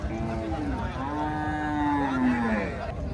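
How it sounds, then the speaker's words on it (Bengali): A Friesian calf at a busy cattle market lets out a long, drawn-out moo close by, its pitch rising and then sliding downward, over a murmur of background crowd noise. "এটা হচ্ছে বাছুর।"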